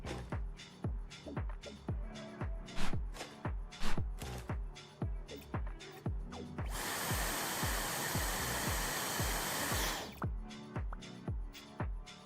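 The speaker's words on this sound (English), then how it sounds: "Vacuum up the chips that have probably been there since you guys bought the fucking house." Vacuum cleaner in the House Flipper 2 video game, a steady whooshing drone running for about three seconds mid-clip, sandwiched between rapid rhythmic clicking and tapping sounds before and after.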